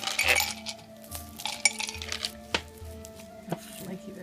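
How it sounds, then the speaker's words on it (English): A knife cuts through the flaky pastry top of a steak and Guinness pot pie, giving a string of faint crisp cracks and clinks against the dish over a quiet background. "Let's cut to the top of that pastry."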